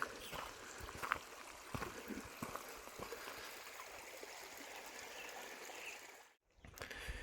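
A creek at a trail crossing in the Zion Wilderness along Middle Fork Taylor Creek flows with a steady, soft rushing and trickling, heard faintly from nearby with a brief dip near the end.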